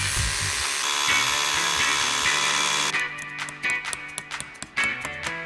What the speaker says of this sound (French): perce ses trous